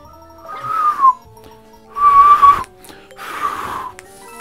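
A person imitates the whistle call from Mario Party, giving three separate breathy whistled bursts, each about half a second to a second long, with short pauses between them, close and fairly loud.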